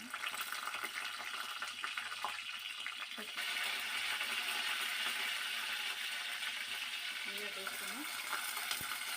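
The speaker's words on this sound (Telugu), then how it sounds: "ఆయిల్ కాగిందండి, ఇగో ఆవాలు వేసుకుందాం అండి" Mustard seeds crackle and sizzle in hot oil in a pan for a Telugu ridge gourd and dried prawn curry, with a dense, continuous frying hiss close up and a few faint clinks.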